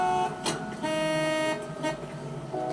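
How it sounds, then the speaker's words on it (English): A car horn in the L.A. Noire video game honks in steady toots across the clip, loud and close over a constant engine and city hum. "Quit honking at me."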